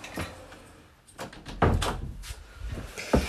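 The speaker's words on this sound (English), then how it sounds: "let me close the door" A door is closed indoors during a live stream, a few dull thumps and knocks scattered over a few seconds, with no talk.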